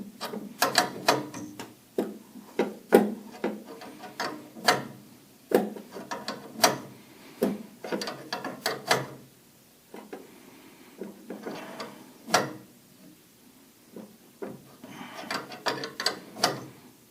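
Ratchet wrench snugging a fitting on a rebuilt carburetor fitted to a Ford Model T, giving repeated close clicking bursts with short pauses between strokes, no talk.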